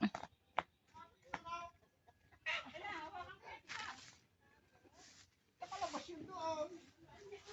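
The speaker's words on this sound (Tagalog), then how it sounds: "Nakalabas yung aming kakarnihing manok." Chickens clucking at a rural farm in the Philippines during calamansi picking, with soft, scattered clucks and short bursts of fowl calls over a few seconds; people can be heard talking faintly.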